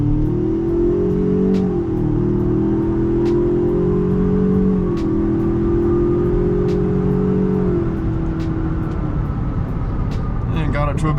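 A 2020 Ford Ranger pickup accelerating hard, its engine droning and rising in pitch, with quick gear shifts that break the climb before it settles into a steady cruise at speed.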